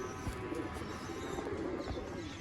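Large Sialkoti pigeons coo softly in a loft or enclosure, low repeated coos with light fluttering and shuffling in the background.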